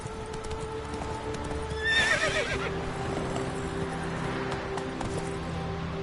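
Horse in The Witcher 3 gives one loud whinny over a continuous rhythmic clip-clop of galloping hooves, with a game soundtrack playing beneath.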